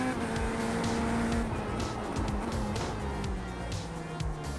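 A race car engine in the iRacing sim drops through gears in a quick downshift while braking, with a series of rapid rising and falling revs and engine-braking blips close up.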